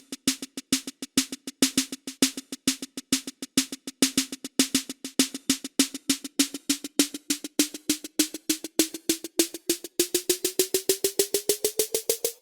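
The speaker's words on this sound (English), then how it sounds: "this is snare fill 1." A tropical house snare fill from a sample pack: a sharp, dry snare hit repeated in a steady, accelerating roll whose pitch climbs as it speeds into a dense build-up, played alone.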